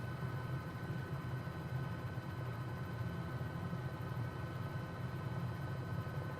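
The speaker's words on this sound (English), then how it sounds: "That's an older LAPD chopper, indeed." Steady turbine whine and rotor drone of a Bell 206B3 helicopter engine in Microsoft Flight Simulator, running continuously at an even level with no talk.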